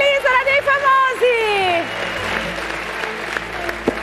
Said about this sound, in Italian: questo era l'applauso per te